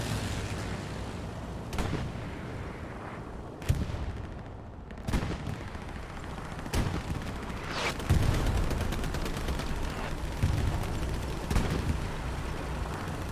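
Tank gunfire in a video game match, heavy booming cannon shots at irregular intervals, some near and sharp, others distant, over a rumbling battlefield with scattered smaller gunfire.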